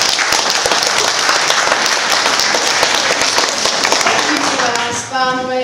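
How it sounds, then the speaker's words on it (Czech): Loud, dense audience applause from a theatre crowd, sustained clapping that fades near the end as a voice begins speaking. "Potlesk, prosím, to si zaslouží potlesk."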